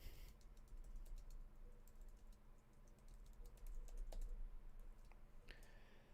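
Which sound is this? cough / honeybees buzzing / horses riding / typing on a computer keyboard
typing on a computer keyboard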